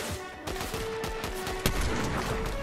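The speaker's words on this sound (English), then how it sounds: "Shots." Dense, continuous gunfire in the Fortnite video game, with overlapping bursts of shots packed into a short, loud, sustained volley with no pauses.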